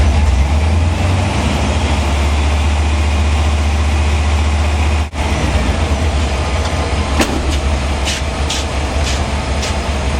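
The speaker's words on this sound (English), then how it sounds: "Now I'm going to bring the RPM up." A vehicle engine brought up above 1000 RPM for timing adjustment holds a steady, loud, low idle-like drone throughout, with a brief dip midway and a few faint higher tones near the end.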